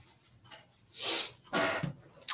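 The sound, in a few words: sneeze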